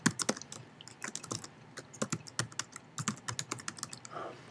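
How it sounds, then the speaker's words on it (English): Rapid, uneven keystrokes on a computer keyboard as an email address is entered, close and crisp with brief pauses between bursts and no talk. "the first field, the to field,"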